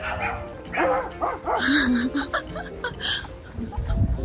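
Dogs at a glamping site bark and yip in a quick series of sharp calls, some with a whining pitch, while people laugh and talk close by.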